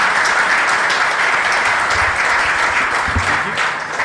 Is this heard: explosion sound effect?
no